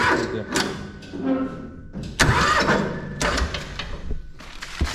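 A 12 hp Antor diesel engine that stalls when the clutch is pressed cranks and starts with rough mechanical knocks, then runs loud and close, with voices talking briefly.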